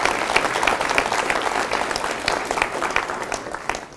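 An audience claps for a presenter, dense steady applause from a crowd that holds for a few seconds and slowly thins toward the end, with no talk over it.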